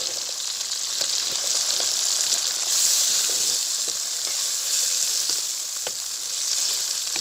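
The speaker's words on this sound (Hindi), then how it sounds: "अब हम छोला डालने लगे हैं।" Boiled chickpeas hit hot oil in a pan for chola salan, and a loud, steady sizzle hisses up close, with faint stirring clicks scattered through it and no talk.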